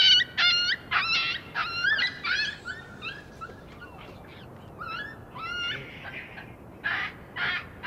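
A puppy taken in by a male baboon yelps and whimpers in a rapid series of high, wavering cries, some close and sharp, others fainter, with gaps of quiet outdoor background between.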